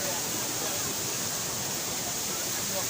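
Gundicha Ghagi waterfall in Keonjhar, a continuous broad rushing roar of falling water, steady and fairly loud without pause.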